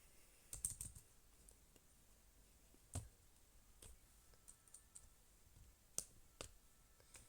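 Scattered, quiet clicks of a faulty computer keyboard, irregular single taps and short runs with gaps between them, close by.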